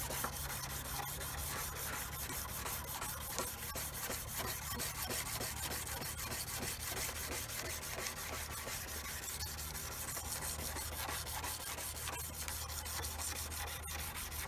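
Sandpaper at 320 grit rubbing rust off an O1 tool steel chef knife, a continuous close, even scratching stroke that runs on without pause and with no talk.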